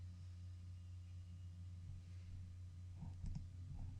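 A computer mouse clicks a few times in quick, crisp taps, including a quick double click, over a steady low electrical hum.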